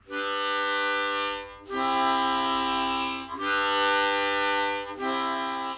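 Hohner Special 20 C diatonic harmonica plays a relaxed exhaled chord on holes 1 to 3, sounded four times in a row as long, even breaths with short gaps between, clear and close with no talking.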